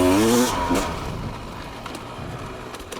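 The two-stroke engine of a 2026 RIEJU MR 300i PRO off-road motorcycle revs up close and loud, then fades into a raspy, fluttering drone with wind noise as the bike pulls away.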